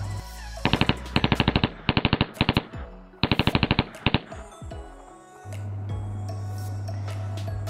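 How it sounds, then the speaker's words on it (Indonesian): Several short bursts of rapid warning gunfire from a Russian guard ship crack out in quick clusters, followed by a low steady engine rumble. "kapal pengawal Rusia telah melepaskan tembakan amaran"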